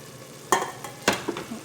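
A spatula stirs chicken sotanghon guisado with carrots in a pan, making a few soft scraping strokes over a faint low sizzle, quiet and close, with no talk.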